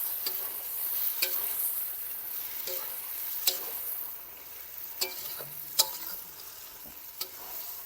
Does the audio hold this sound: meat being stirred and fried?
yes